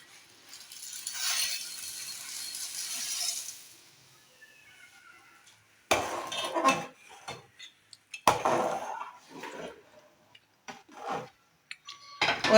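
Vermicelli stirred in a pan of milk on a low flame, with a spoon scraping and clinking against the pan in short irregular bursts, close by and separated by quiet pauses, preceded by a soft hiss.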